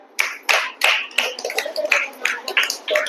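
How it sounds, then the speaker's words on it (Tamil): A small audience at an awareness event on drug and mobile phone addiction claps for a girl who just spoke, producing sparse, distinct, uneven hand claps that are close and fairly loud and carry no talk. "அந்த பொண்ணுக்கு நல்லா ஒரு கைத்தட்டல் கொடுங்க"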